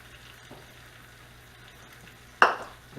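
Peeled sliced apples with cinnamon sugar frying in melted butter in a cast iron pan make a quiet, low sizzle, and one sharp scrape or clatter breaks in near the end.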